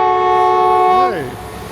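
Train horns sounding at Duffield station as HST and Class 66 freight trains pass: a loud, sustained two-tone blast that bends downward in pitch as the train sweeps by, then fades.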